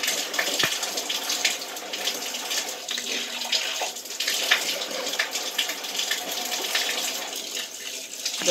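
Fresh water sloshing in a rag while washing a face, a steady close wet swishing and trickling that runs continuously with small splashes and no talking.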